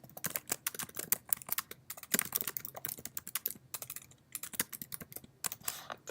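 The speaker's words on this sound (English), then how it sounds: "I can start to type in the student's name and then click that and I can send it" Fingers typing on a computer keyboard, with quick, irregular bursts of light key clicks at close range and short pauses between words, and no talking.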